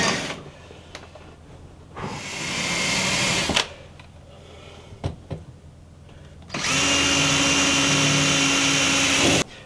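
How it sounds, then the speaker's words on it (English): An electric drill boring small holes into a boat's structure, running in three whining bursts of a few seconds each, loud and close, separated by quieter pauses with small knocks and handling clicks. "I'm just going to drill a couple of small holes in here."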